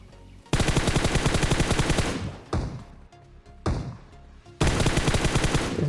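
Rapid bursts of AKM rifle gunfire in PUBG, several long automatic volleys separated by brief pauses, loud and close, with game-like ambience between.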